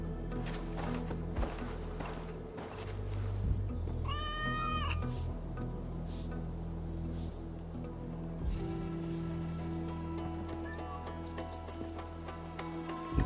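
Cat meowing in Assassin's Creed Valhalla, a single drawn-out meow over steady ambient game rumble and scattered taps, with rain-like background texture.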